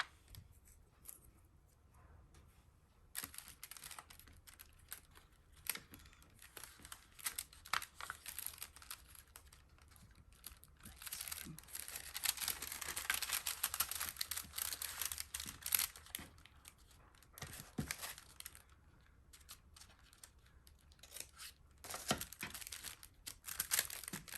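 Paper crinkles and tears in quiet bursts during junk journal crafting, with intermittent rustling, ripping and handling sounds close by, louder in the middle stretch, and no talk.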